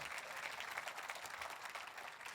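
A church audience claps during a Christmas sermon, a steady spread of applause that sounds very faint and distant, with no voices over it.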